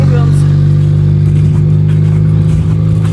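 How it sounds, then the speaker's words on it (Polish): A car passes on a road along the Main Carpathian Trail near the Polish border, its engine a loud, steady hum that fills the whole moment without fading. "To był samochód."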